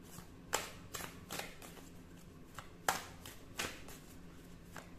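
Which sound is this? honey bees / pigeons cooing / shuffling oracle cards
shuffling oracle cards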